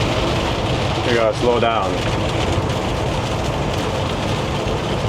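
Steady rain hissing onto a wet road around a freight truck in traffic, a constant wash of noise with someone talking briefly over it.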